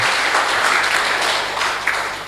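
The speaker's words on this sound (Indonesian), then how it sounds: "Tepuk tangan dulu buat Tuhan Yesus, haleluya." Church congregation clapping for Jesus at a Holy Communion service: continuous, fairly loud group applause for a couple of seconds, tapering slightly at the end.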